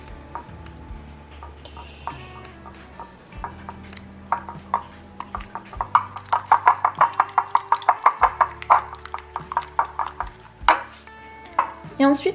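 Egg yolk thinned with a little water being stirred in a small bowl for an egg wash to brush on a braided milk-bread brioche: a quick run of close, regular utensil clinks against the bowl.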